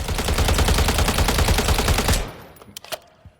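Sustained full-auto burst from a CZ BREN 2 rifle in Call of Duty Modern Warfare III, a loud dense rattle of rapid shots for about two seconds, then breaking into a few scattered clicks and thuds.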